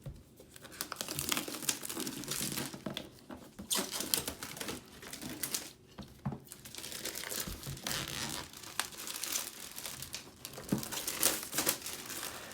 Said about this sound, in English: we'll go ahead and cut the plastic on the packaging here